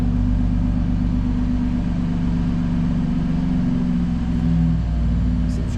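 A BMW M2 Competition DCT fitted with a Remus exhaust idles steadily, a deep, continuous low rumble heard up close from behind the car with no speech.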